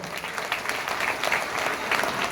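A seminar audience for Vestige claps loudly: a dense, even crackle of many hands from start to finish, close and continuous, with no voices over it.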